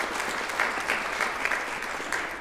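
Applause from the audience at a university spring music concert, a thick even patter of many hands with a few sharper individual claps popping out, sustained and moderately loud with no talking.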